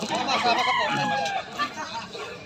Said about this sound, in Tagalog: Napakarami pang manok.